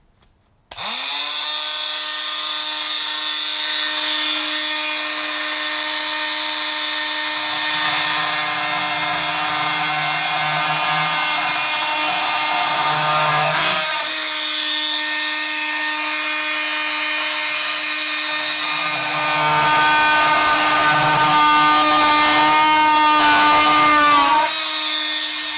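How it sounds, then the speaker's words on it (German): Fein MultiTalent oscillating multi-tool, used as a plunge saw, cutting down into 19 mm multiplex plywood: a loud, steady high-pitched buzz that runs nonstop for about 24 seconds, with a deeper grinding rasp coming in twice as the blade bites. "Wir benutzen das Ding als Tauchsäge und gehen direkt so oben in die Oberfläche rein."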